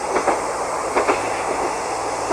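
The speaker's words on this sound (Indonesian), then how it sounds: "Jadi tiap 1 jam sekali itu keretanya lewat." A train passing through a rural village in Japan, a steady rumbling roll with a few clicking wheel beats near the start and around the one-second mark, heard alone without voices.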